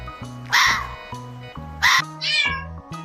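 A kitten gives about three short, bright meows in quick succession, clear and close, over a soft backing melody.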